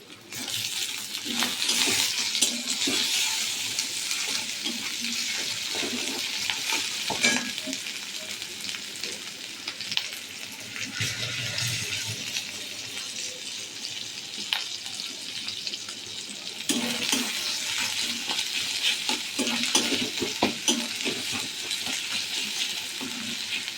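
Chopped tomatoes sizzle and fry with soybean chunks in a pan for a spicy soybean kosha, a steady broadband crackle with occasional stirring scrapes and watery hissing throughout, close and fairly loud with no talking.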